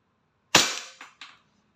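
A WE Glock 35 gas airsoft pistol fires a single sharp, close crack in a quiet space, followed by two quick fainter clacks of the mechanism.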